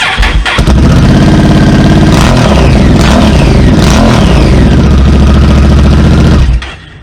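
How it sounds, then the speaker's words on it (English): A Honda NT1100 motorcycle with its endcan removed, blipped loud and close: a sharp crack of revs rising and falling several times over a rough, booming idle before cutting to quiet at the end. "give the bike a quick blip just without the Endcan on"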